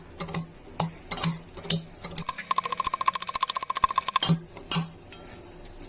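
Garlic cloves, cumin and coriander seeds are being coarsely pounded for rasam: close, rhythmic thuds at an even pace, then a quick run of sharp, bright metallic taps before the slower blows return.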